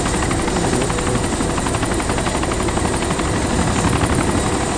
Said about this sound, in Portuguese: é grandão esse helicóptero